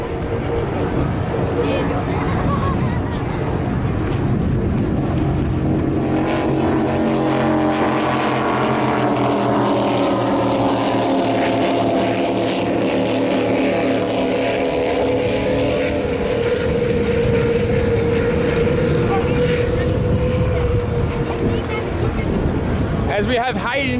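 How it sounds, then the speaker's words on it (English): A racing powerboat's engine roars past at full throttle down a race course's main straight, the pitch sliding as it passes, loud and sustained, with an announcer talking beneath the noise. "As we have Hayden in Dynamic Racing, massive rooster tail out the back of his boat, thundering down the main"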